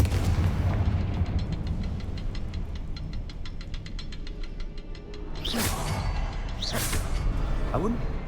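A Confringo explosive spell in Hogwarts Legacy fires off twice in quick succession, each a sharp whooshing blast over a steady rhythmic ticking and game ambience.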